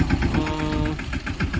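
Engine of an assembled 10 HP mini tractor running steadily nearby, a continuous low mechanical drone with a faint rhythmic knock.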